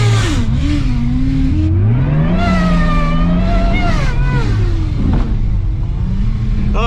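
A supercharged car in a video game drives and revs, its engine tone rising and falling in loud, close sweeps with clear changes in pitch as it accelerates and eases off.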